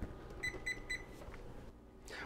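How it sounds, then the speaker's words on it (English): A kitchen timer being set while wheat berries cook chirps three short, bright electronic beeps in quick succession, faint and close, followed by quiet handling noise. "let me go ahead and set the timer"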